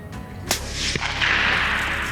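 A single sharp hunting-rifle shot cracks out during a stalking hunt in Skiemonys, Lithuania. It is followed by a fainter secondary snap and a lingering outdoor rumble and hiss.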